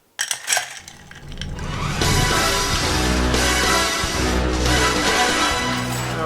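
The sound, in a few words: ice stirred in a mixing glass for an Old Fashioned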